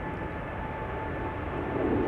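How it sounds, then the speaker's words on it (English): A KLM Embraer 190 jet in SkyTeam livery departs Amsterdam Schiphol Airport, its engines giving a steady, broad roar that is moderately distant and swells slightly toward the end, with no voices. "Hey, SkyTeam Embraer 190."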